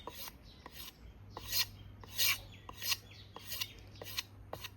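A blade splits and shaves bamboo into thin strips for tying rice parcels, making about eight close, rhythmic rasping strokes with short pauses between them.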